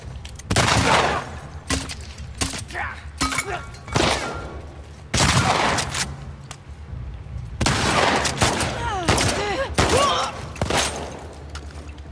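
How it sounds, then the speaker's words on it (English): Enemy gunfire crackles in repeated sharp bursts during a fight in The Last of Us Part II, loud and close, with thuds, shattering and other combat noise between the shots. "Now he's firing at me."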